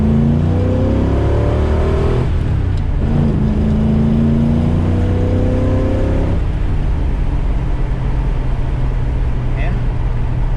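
A 1965 restomod Ford Mustang accelerating in second gear, its engine note climbing steadily in pitch and loud from inside the car, with voices talking over it.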